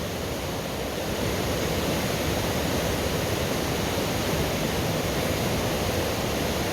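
A swollen, muddy river rushes past a cabin, a loud, dense and unbroken roar of churning water that stays steady from start to finish with no voices.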